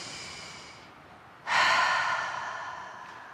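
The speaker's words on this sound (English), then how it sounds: "I invite us to take another deep breath." A church congregation drawing a deep breath together, a soft airy exhale fading out, followed by a louder collective inhale that swells and then slowly trails away.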